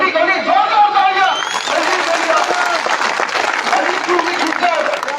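A crowd claps loudly at a political public address in a rural Rajasthan village, the sustained applause running throughout while an amplified voice speaks over it at the start.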